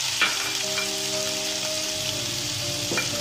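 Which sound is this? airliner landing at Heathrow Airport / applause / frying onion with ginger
frying onion with ginger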